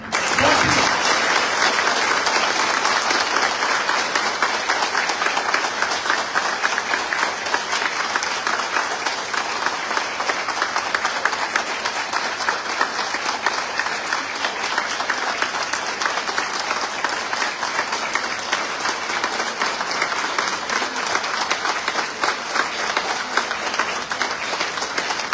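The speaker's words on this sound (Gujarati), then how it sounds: "30 સેકન્ડમાં કેટલી તાળી પડે?" A seminar audience claps continuously for about half a minute, dense loud applause from many hands that holds steady from start to finish without talk.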